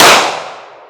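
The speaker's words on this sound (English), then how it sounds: "It shoots really, really well when it shoots." A Sig P365 Fuse pistol that is having feed malfunctions fires a single loud, close shot with a sharp crack and a quickly fading tail.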